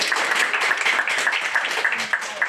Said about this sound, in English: We can all just give a hand of applause now.